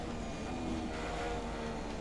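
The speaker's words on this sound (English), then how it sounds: "we have a random aeroplane that just has to go overhead" Airplane flying overhead at a Chinese Grand Prix race in the video game F1 2017, a steady droning engine rumble mixed with ambient race noise, moderately faint and unbroken for two seconds.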